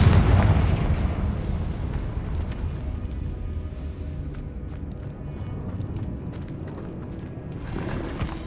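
A Confringo blasting spell explodes in Hogwarts Legacy with a loud booming blast at the start, followed by a long rumbling decay scattered with crackling debris and small pops.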